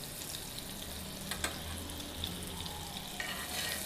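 Butter and oil sizzling in a frying pan in a home kitchen, a steady soft crackling hiss with occasional spits and a light clink, close and fairly quiet with no talk.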